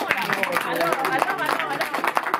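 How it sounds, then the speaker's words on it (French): A cinema audience in Paris breaks into brisk applause for a film director, dense overlapping claps at moderate loudness with voices mixed in underneath. "Alors là, tonnerre d'applaudissements"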